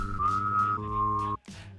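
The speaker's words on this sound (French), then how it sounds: "siffler et utiliser sa gorge en même temps" A single sustained whistled tone sounds over a low hummed throat drone at the same time, close and steady, then stops abruptly.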